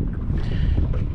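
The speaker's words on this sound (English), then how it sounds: "Today's windy. It's more windier than the one yesterday when I came." Wind buffets a fishing boat on Badin Lake, a steady loud rumbling gust over the microphone with a hissy breathy wash, continuous through the brief moment.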